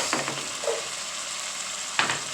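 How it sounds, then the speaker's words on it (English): Onions go into a pot of sofrito and recaito for stir frying, giving a steady, moderate sizzle with a few brief stirring scrapes and a sharper clatter near the end, no voices. "You want to get it in there to stir fry with the sofrito recaito. Now I'm going to add my onions,"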